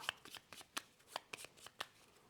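Cardboard game tiles shuffled by hand for a solo session of the board game Ayar: Children of the Sun, a quick run of soft clacks and shuffling bursts, close and fairly quiet, with no talking.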